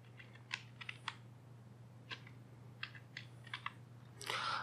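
Keystrokes on a computer keyboard while a password is entered during software setup, a few short bursts of quiet clicks with pauses between, faint and close over a low steady hum, ending with a brief louder rustle.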